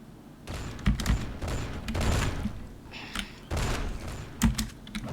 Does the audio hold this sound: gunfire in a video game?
yes